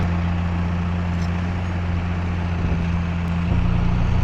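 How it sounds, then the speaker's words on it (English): A John Deere 6120 tractor fitted with a grading blade runs nearby, its diesel engine giving a steady, close, low drone with a constant throbbing hum and no break, slightly louder near the end. "Dad's gonna take this John Deere 6120 to blade"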